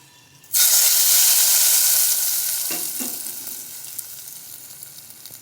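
Mustard seeds hit hot oil for the tempering of a Kerala papaya erissery, starting with a sudden loud burst of sizzling that slowly fades. A few pops and crackles sound near the middle. No voices.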